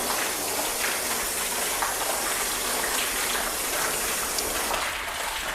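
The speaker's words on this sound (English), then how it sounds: "let's go ahead and just try and flood each section and just see how quickly the water sheets off" Water from a hose sprays in a steady, dense hiss, pouring continuously onto sealant-coated car panels close by without letting up.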